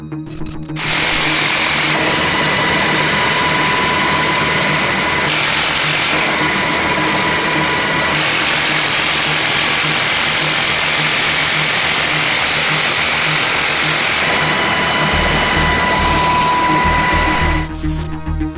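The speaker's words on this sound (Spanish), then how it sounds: "Pero emplear un helicóptero artillado en una zona urbanizada implica grandes desafíos" A loud armed military helicopter passes over an urbanized area, its heavy, steady turbine whine and rotor roar filling the whole stretch before cutting off abruptly at the end.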